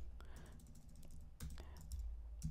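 Typing on a computer keyboard, a run of close, crisp key clicks in uneven bursts with a short pause midway, steady and moderately loud with no voice.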